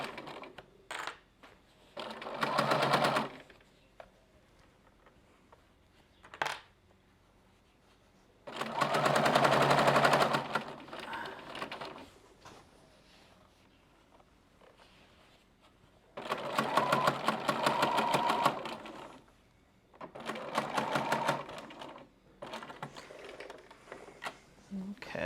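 Small fabric bag, shaped like a purse, being stitched on a sewing machine through thick layered fabric; several separate bursts of steady motor whir with quiet pauses between runs, a small click or two in the gaps.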